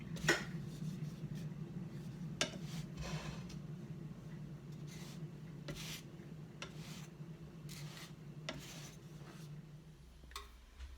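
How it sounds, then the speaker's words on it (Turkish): Bazlama flatbread turned and shifted in a pan on the stove, producing faint, soft rubbing and scraping sounds with occasional light clinks over a low steady hum, without any talking. "Şöyle hafiften çeviriyoruz tavanın her tarafından eşit sıcaklık alsın diye"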